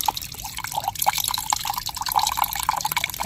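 Thin coconut milk pours like water during preparation of urad dal porridge, a steady close splashing trickle with small drip-like spatters running continuously with no voices.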